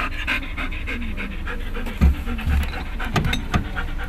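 A police shepherd dog pants rapidly and steadily close by, rhythmic breathy huffs with a few thumps and scuffs during a search demonstration.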